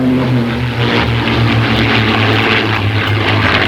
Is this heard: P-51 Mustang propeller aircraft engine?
yes